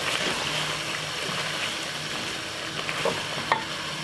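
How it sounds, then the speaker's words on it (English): Curry chicken with carrot and potato is stirred in a pot, a soft scraping and sloshing with gentle sizzling underneath and a couple of light knocks near the end. "And give it a stir."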